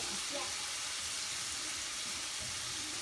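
Ginger frying in a pan, a soft steady sizzle with faint crackle running throughout at low level, quiet and continuous, no voice over it.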